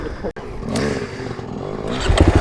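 A 2021 Kawasaki KX450X 450cc dirt bike engine works along a technical single-track trail, loud and close with throttle blips and chugging revs that rise into a rapid pulsing burst at the end.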